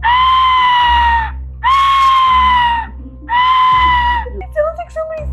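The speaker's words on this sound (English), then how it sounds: "It sounds like somebody's screaming." A recording found in a lost mail package plays three loud, drawn-out, bleat-like screams one after another, with brief pauses between them and people talking afterward.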